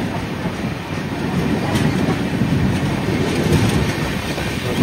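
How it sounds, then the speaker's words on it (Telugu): Charlapalli–Naharlagun special train rolling past, a dense continuous roar of wheels and cars at close range with no break. "ఈ ట్రైన్ వచ్చేసి చర్లపల్లి నహర్లగాన్ స్పెషల్ ట్రైన్ అండి ఇది"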